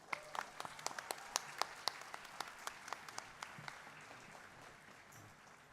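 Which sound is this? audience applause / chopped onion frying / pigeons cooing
audience applause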